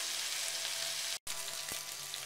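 Rabbit pieces sizzle and fry in a pan for a stew, a steady close hiss that drops out briefly partway through before resuming.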